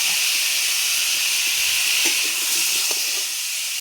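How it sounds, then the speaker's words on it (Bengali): Potatoes frying in hot oil in a pan, a loud steady sizzling hiss throughout that cuts off at the end. "এখন আমি আলুগুলো ভাজা করে নেব।"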